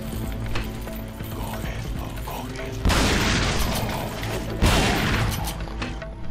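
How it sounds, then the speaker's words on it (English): Two loud, heavy shotgun blasts in Resident Evil 4: Separate Ways, a couple of seconds apart, ring out over a constant mechanical in-game background. "Let's use the shotgun."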